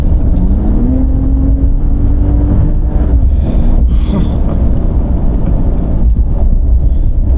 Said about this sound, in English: Let's do one last acceleration before the end.